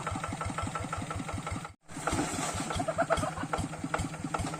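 Plough tractor engine chugging with a steady rapid knock as it works over rocky ground on a terrace edge, loud and close, briefly cutting out before running again.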